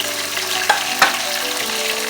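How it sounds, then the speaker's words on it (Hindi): Chopped tomatoes frying with golden-browned onions in a pan, a steady loud sizzle throughout with two brief louder spatters partway through. "इस स्टेज पे अब मैं इसमें ऐड करने लगी हूँ टमाटर।"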